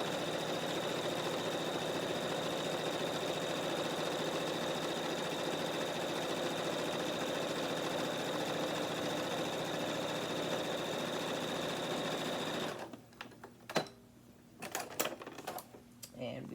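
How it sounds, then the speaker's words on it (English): A sewing machine runs steadily along the side seam of a fabric tote bag, a close continuous mechanical whir for several seconds before stopping, followed by small handling clicks and rustles. "And we finished sewing that side."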